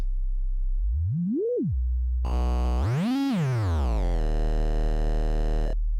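A pure electronic tone from a Livestock Electronics MIR synthesizer oscillator sweeps up and down in pitch, then turns into a buzzy, harmonically rich synth drone that glides, holds steady, and cuts off abruptly.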